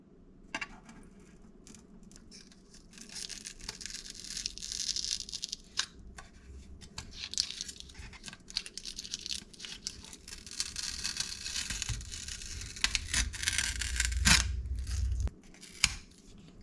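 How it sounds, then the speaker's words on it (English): A sticker is scraped and peeled off a titanium motorcycle exhaust can from a CRF150R, giving crackly tearing and scratching with a few sharp clicks, close and steady, with no talk. "Let's start with getting the sticker off. Maybe if we get lucky, we can peel it off."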